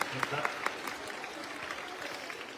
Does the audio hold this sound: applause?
yes